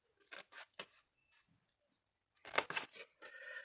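Scissors snip through material trimmed flush while making a large document holder, a few crisp close cuts, a quiet pause, then a louder burst of snipping.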